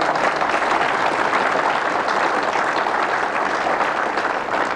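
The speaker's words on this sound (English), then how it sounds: "Yes, you're darn right, you should applaud for them." A large audience applauds for two former SEALs, a thick unbroken wash of clapping, loud and steady throughout.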